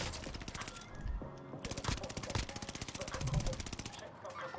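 Assault rifle fire in a battle royale video game, rapid sustained bursts of automatic shots in a dense, loud rhythm with brief pauses between, while someone talks over it.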